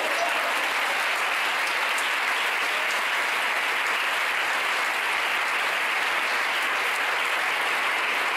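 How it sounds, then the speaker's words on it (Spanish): Congregation in a church applauding with loud, dense, sustained clapping that runs unbroken from start to finish, close and full with no distinct voices. "Un aplauso para Dios."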